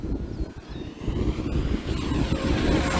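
An E-flite T-28 RC airplane, a 1.2 m model on its maiden flight, runs at full throttle in a steady, rising electric drone that grows slightly louder, with wind buffeting the microphone throughout.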